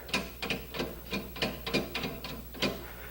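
Screws are turned counterclockwise to loosen them and release a motor, producing a close, steady series of ratcheting clicks about three per second, alone without talk.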